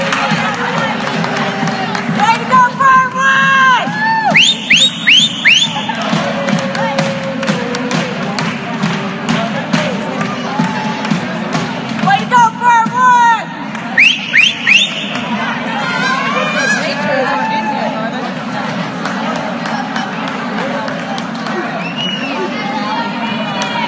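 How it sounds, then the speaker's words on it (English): The crowd at a high school football game between Briar Woods and Patrick Henry makes a loud, continuous roar of chatter and cheering, with occasional sharper shouts and nearby voices on top. "You don't need to hear me, but it's good to hear the crowd."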